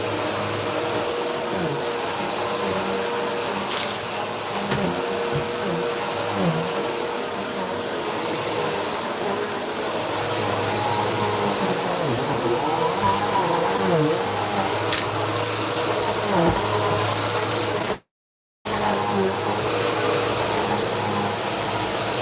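A vacuum cleaner running steadily with a constant whirring drone and shifting mechanical tones throughout, cut briefly by a short gap near the end.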